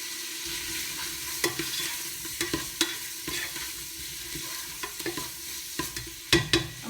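Sausage browning in a pan in rendered bacon fat, a soft, steady sizzle broken by scattered stirring clicks and scrapes, fairly quiet and with no voices.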